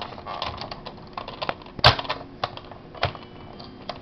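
Clicking and creaking from the small opening door on a vintage 1967 Captain Scarlet Century 21 toy car, close up, with scattered light ticks and one sharper snap midway. Nobody speaks.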